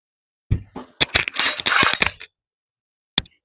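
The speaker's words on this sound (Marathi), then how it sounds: "त्यामध्ये आपण ही आधी मखाने भाजून घेऊया." Makhana (fox nuts) roast in a hot pan, rattling and clicking in a quick burst of sharp, brittle taps and crackles as they are stirred, followed by silence and one last isolated click.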